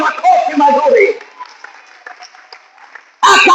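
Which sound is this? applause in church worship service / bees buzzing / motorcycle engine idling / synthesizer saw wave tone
applause in church worship service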